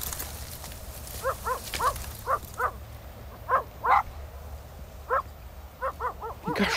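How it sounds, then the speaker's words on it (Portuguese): A dog barks repeatedly in short, uneven bursts at a moderate distance, over a steady background hiss. "Tem cachorro, amor."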